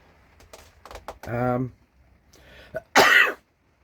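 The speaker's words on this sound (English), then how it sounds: "As you see, I'm coughing a little more." Several coughs and a throat clearing, close by, in short bursts separated by brief pauses.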